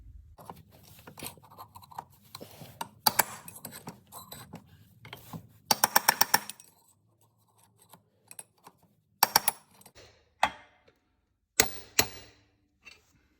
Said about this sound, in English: Stick it down, you should be able to feel the ledge, and you can hammer out the old bearings.